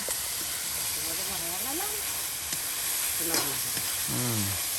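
Shing fish, along with puti and tengra, sizzling and hissing steadily in hot oil in a pan, a continuous loud fry with a few soft tonal sounds over it.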